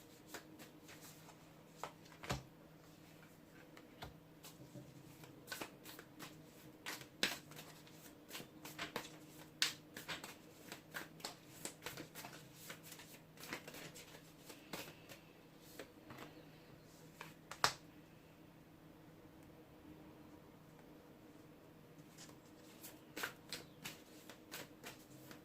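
Seeker's Oracle cards being shuffled, quiet dry riffling with scattered sharp card slaps and taps throughout, close and soft, no talking.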